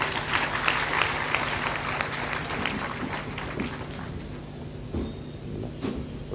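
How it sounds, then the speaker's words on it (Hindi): Audience clapping at a spiritual sermon gathering in Intauja, Lucknow district, Uttar Pradesh: dense, steady applause from a crowd filling the space, tapering slightly toward the end with a few louder individual claps. "ताली बजा दीजिए।"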